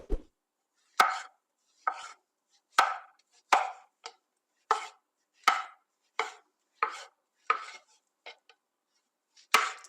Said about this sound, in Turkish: Şimdi mantarlarımızı her zamanki gibi ince olarak doğrayarak başlıyoruz.